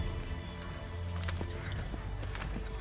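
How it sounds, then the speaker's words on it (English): A horse galloping in a video game at night, rapid clip-clop hoofbeats under constant rumbling ambience, with a brief neigh mixed in. "Get back on the horse, Connor."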